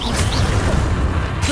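Confringo fire spell cast in the Hogwarts Legacy video game, a brief swooshing burst with a crackling impact, loud and close, lasting about a second and a half.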